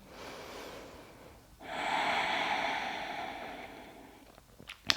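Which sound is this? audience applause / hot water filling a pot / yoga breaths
yoga breaths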